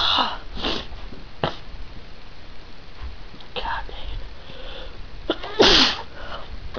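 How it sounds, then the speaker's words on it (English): A heavyset man, prone to allergic sneezing around cats, lets out a loud, sharp sneeze near the end after a few sniffs and breathy sounds, close to the microphone. "Now I gotta sneeze."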